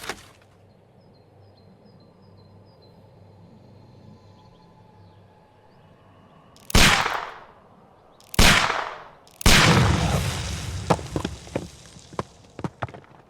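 A pistol is fired at a package in the Sherlock Holmes video game: after a quiet stretch, three sharp, loud shots crack out, the last followed by a lingering blast and rattling debris.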